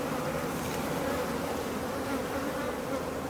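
Dense, steady buzzing of a large honey bee population at a hive being assembled, a continuous drone that stays loud and even throughout with no voices.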